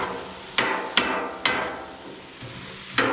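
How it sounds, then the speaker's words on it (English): Salsa vegetables pounded in a mortar and pestle: four sharp, loud thuds at uneven intervals, each with a short ringing decay, over a faint background hiss. "our mortar and pestle."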